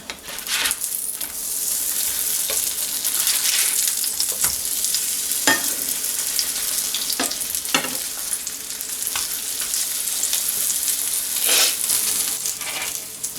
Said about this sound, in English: I think we're ready to flip our pancakes